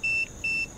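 An electromagnetic field meter in a reputedly haunted place in Calcutta gives two steady high-pitched electronic beeps in a row, each lasting about a fifth of a second, clear over a faint background hiss.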